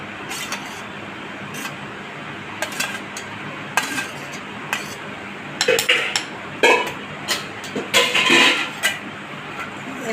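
Gourd seeds are crushed on a stone grinding slab, with scattered clacks and scraping knocks of the grinding stone, sparse at first and then quicker, louder bursts near the end, up close.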